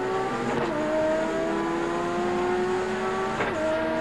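Touring race cars accelerate hard off the line at the 1990 Australian Touring Car Championship round at Phillip Island, engines wailing and rising in pitch as the pack surges away, loud and continuous, with a couple of sharp gearshift breaks.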